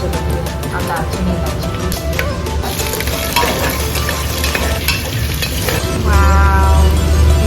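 Bay leaf, dried chilli and cinnamon crackle and sizzle in hot oil, loud and close, with stirring scrapes. A steady frying hiss runs under a voice talking throughout.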